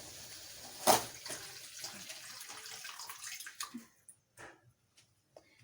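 Water poured into fragrant cooking spices in a pan, a steady splashing pour with a sharp splash near the start that tapers into a few scattered drips and small sizzles.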